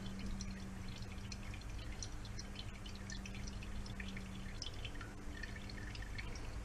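Liquid dripping and trickling off cooked chicken set aside to drain, a faint, close, continuous patter of small drips with no voices.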